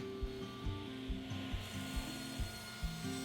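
A saw cutting leftover plywood to size for the back of a shoe rack, a quiet, steady back-and-forth rhythm of regular strokes with no talking.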